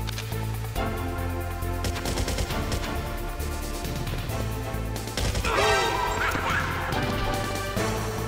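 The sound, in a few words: gunfire from video game Metal Gear Solid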